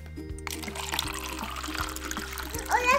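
Water trickles and pours into cups during a children's birdhouse-building and painting craft session, a soft continuous splashing heard over a steady low hum.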